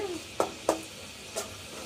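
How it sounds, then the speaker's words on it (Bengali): Spice paste seasoned with salt frying in a pan for a Bengali hilsa fish and banana dish, heard as a soft low sizzle under three brief spatula scrapes spaced about a third of a second apart. "আমি এখন ভালো করে কষিয়ে নিচ্ছি মশলাটা"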